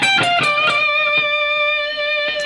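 Distorted electric guitar with an effects unit plays a blues phrase: a few quick picked notes, then a sustained string bend up to the scale's fifth degree that rings out alone.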